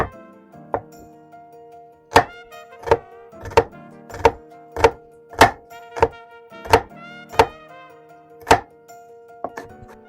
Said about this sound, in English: we're going to take our 2 garlic cloves and we're going to mash them, and you want to make sure that these are peeled and minced.